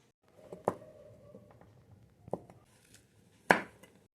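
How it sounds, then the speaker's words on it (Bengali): A knife chops cashew nuts on a board for suji laddu, landing three sharp, separate cuts a second or more apart, close and otherwise quiet. "এবার কেটে নিচ্ছি কাজু বাদাম।"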